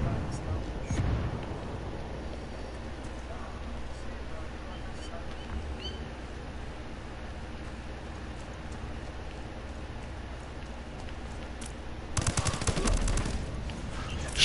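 Gunfire in a PS4 online military shooter game, steady crackling bursts under players talking, swelling into louder rapid firing near the end.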